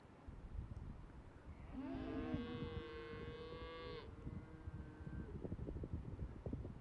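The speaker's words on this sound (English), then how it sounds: "And that's all they have to say about it is moo." Cows lowing in an open prairie setting, a single drawn-out moo rising and falling over about two seconds, fairly clear against steady wind noise on the microphone.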